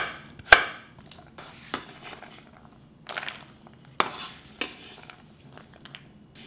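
A knife chops carrots and other vegetables into small quarter-inch cubes on a board, giving sharp, close knocks spaced irregularly about a second apart, with quiet scraping between them.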